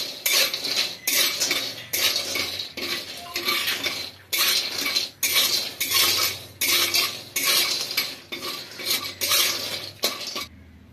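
Cashews and almonds are dry-roasted in a kadai, with a spatula scraping and clinking against the metal in steady, repeated strokes, loud and close with no voices.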